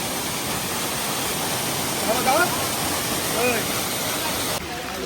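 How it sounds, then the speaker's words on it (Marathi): Water rushes down stone steps at Mahabaleshwar as a steady, dense roar close by, with faint voices briefly rising above it in the middle. "सगळे पायऱ्यांमधून पाणी"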